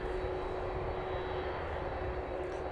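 A jet aircraft moves under its own power at East Midlands Airport, making a steady, even engine roar and whine that holds at one level throughout, heard from a distance with no talking.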